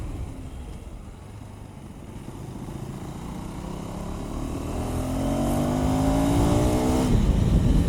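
KTM 390 Adventure X motorcycle cruising in sixth gear at about 70, a steady droning engine note with wind rush that swells and rises in pitch toward the end, heard close from the rider's position.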